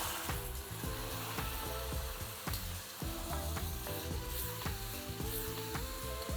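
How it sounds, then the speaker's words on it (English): Marinated mutton for a spicy North Indian gravy sautéing in a pan over reduced flame, giving a steady close sizzle broken by repeated scraping and clinking stirs. "Let's add the marinated meat. Now I'm going to reduce the flame and we're going to saute this for 2 to 3 minutes."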